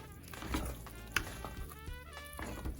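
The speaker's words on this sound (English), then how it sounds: "So I'm gonna stir this one more time" Stirring a pot of thick goetta oat mush, soft wet scraping and bubbling crackle close by with a brief sharper clink, no talking.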